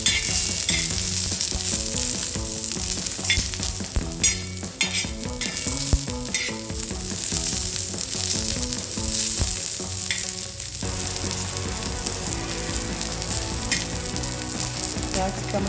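Dry grated coconut roasts in a pan over a gas flame while being stirred, giving a continuous dry sizzle and scraping with clear background music playing throughout.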